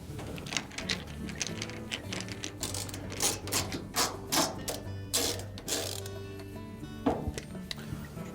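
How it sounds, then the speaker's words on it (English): Three 5/16 screws are removed from the drain pump of a Whirlpool washing machine. A quick stuttering whir of a power driver comes in short bursts with mechanical ratcheting, close and fairly quiet, and no one talks. "then we'll remove 3 5/16 screws"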